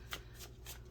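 A pre-shuffled deck of playing cards is riffled by hand, giving four quick papery bursts in about a second, close and fairly soft with no talking.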